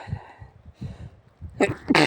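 A sneeze bursts out near the end after a stretch of quiet low murmuring, loud and close, a sharp explosive burst with a second burst right after it, heard outdoors while searching for First World War relics.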